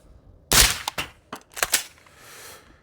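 A suppressed rifle fires in cold, snowy conditions, several sharp reports close by at an uneven pace, the first loudest, with short gaps between shots and no talk.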